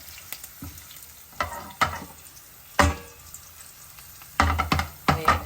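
Cashews frying in ghee in a pan for a moringa dal and jeera rice tadka, giving a soft steady sizzle broken by several louder scraping stirs of a spoon, close up with no talking.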